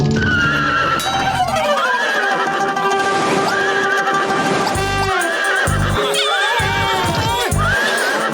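Cartoon horse whinnying several times in loud, rising-and-falling calls, with clopping hooves and busy action-scene sound from a Motu Patlu episode filling the background throughout.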